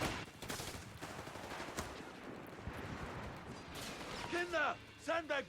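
Battle noise from the real-time strategy game Company of Heroes 3, with steady rattling gunfire and small-arms crackle mixed beneath commentary voices, fairly faint overall.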